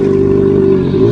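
A sports motorcycle engine runs steadily and loudly nearby, a constant mid-pitched hum with a slight change in tone near the end, no voices.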